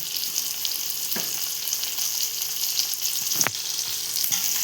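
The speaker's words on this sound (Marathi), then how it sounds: "आता आपण इथे मच्छी फ्राय करून घेऊया." Fish (baga) frying in a pan, a dense, continuous sizzle up close, with a couple of brief clatters as the pieces are moved or turned, no one speaking.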